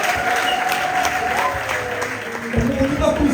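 An audience at an igitaramo celebration in Nyabiheke camp claps in a dense, ongoing patter, with voices speaking over it and a few louder thumps near the end.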